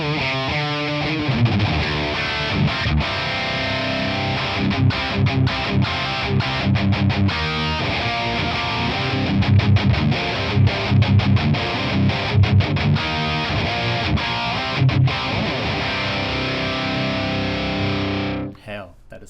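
High-gain electric guitar played through a Tonex ONE amp model on its third channel with reverb switched off, loud, dense and distorted chugging riffs with tight palm-muted stops, continuous for most of the span before an abrupt cut near the end.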